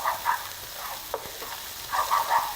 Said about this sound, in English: So the onion has softened, the ginger and the garlic is sizzling